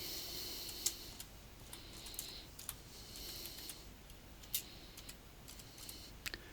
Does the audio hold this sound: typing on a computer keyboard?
yes